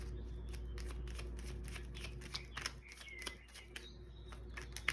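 Tarot cards shuffle quietly in a steady riffling patter of soft slaps and flicks over a low background hum, close but faint, with no talking.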